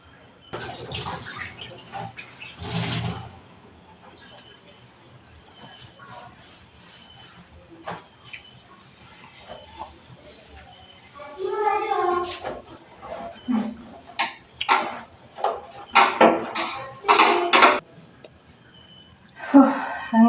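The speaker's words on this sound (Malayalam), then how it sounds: "ഇങ്ങനെ പാത്രമെല്ലാം കഴുകി ഒരുപാട് പാത്രം ഉണ്ടാകും." Many dishes and pots are washed in a home kitchen, with intermittent clinks, knocks and splashes of running water, quiet at first and then growing busier and louder toward the end.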